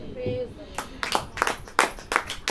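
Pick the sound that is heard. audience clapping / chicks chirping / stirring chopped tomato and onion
audience clapping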